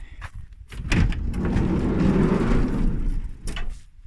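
The sliding side door of a Monaco vehicle, with some rust along its lower edge, rolls open and shut in a smooth, solid and fairly close sweep lasting a few seconds, framed by brief knocks at either end.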